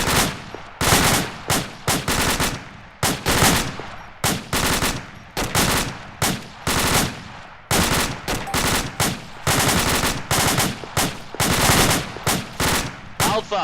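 Bursts of rapid gunfire, loud and close, fired in repeated volleys with short gaps between them as shots go toward muzzle flashes.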